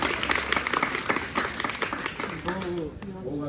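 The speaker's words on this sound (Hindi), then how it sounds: "तालियों की गड़गड़ाहट के साथ" Applause welcomes the chief guest at a government girls' senior secondary school event in Salwan village. It is a steady wash of many hands clapping, and a voice speaks over it toward the end.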